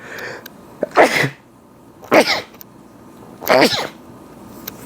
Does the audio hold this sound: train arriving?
no